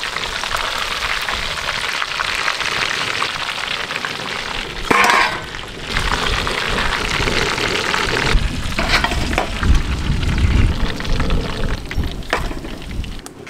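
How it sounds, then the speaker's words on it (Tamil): Chicken deep-frying in hot oil for a Kerala-style dish gives a loud, steady sizzle and crackle, with occasional clinks and scrapes of stirring. "இதே போல எல்லா சிக்கனையும் பொரிச்சு எடுத்துக்கலாம்"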